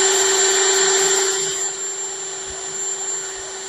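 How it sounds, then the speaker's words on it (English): A power drill bores holes for mounting a solar security camera, its steady high whine loud and continuous for several seconds, easing slightly midway, with no voices. "Got my holes drilled."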